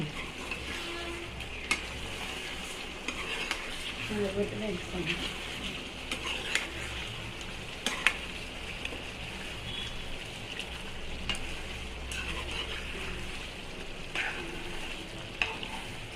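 Chicken gravy curry bubbling and sizzling in a pot while being stirred, a steady close simmer with scattered clinks and scrapes from the spoon, continuous and moderately quiet throughout.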